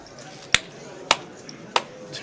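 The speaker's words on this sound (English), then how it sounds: "We're not just clapping" Three sharp, close hand claps, spaced roughly half a second apart, ring out against a quiet indoor background as someone swats at midges at a poker tournament.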